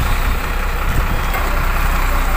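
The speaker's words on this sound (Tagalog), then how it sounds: "lalabas na rin yung mga sasakyan dyan. Yan, umaatras." A vehicle reversing off a docked ferry at a Philippine port, its engine a steady, loud, close rumble with no clear beeps or voices.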